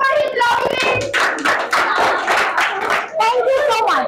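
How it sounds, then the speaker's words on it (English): Schoolchildren and audience clapping during a classroom guessing game, brisk uneven hand claps mixed with children's voices and talking throughout. "Everyone clap for it, lovely."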